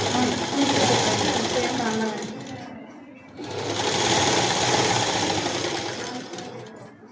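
A sewing machine stitches a body skirt in a tailoring class, running in two loud rapid-chattering bursts separated by a brief pause, with a voice talking over the machine.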